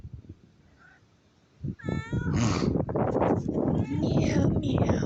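A cat lets out a drawn-out, wavering meow up close, with a person speaking softly nearby.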